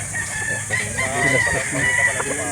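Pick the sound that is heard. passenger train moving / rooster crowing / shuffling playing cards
rooster crowing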